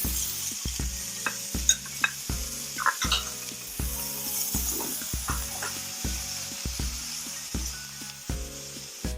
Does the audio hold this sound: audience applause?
no